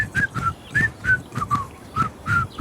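A person whistles a bright, bouncy tune in imitation of upbeat instructional-video background music, with short repeated notes in a steady rhythm of rising and falling chirps.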